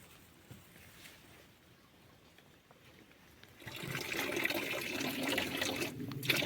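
Water from a spring trickles and flows in an autumn forest, faint and soft at first, then rising into a fuller, closer splashing gurgle partway through.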